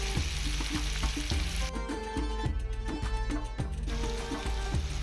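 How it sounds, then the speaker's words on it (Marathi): Chopped tomatoes go into hot oil in a pan for prawn sukke, giving a steady close sizzle and fry with a rhythmic clatter of stirring, and no talk. "तेल तापवलेलं आहे. आता पिवा घालतो. टमाट घालतो."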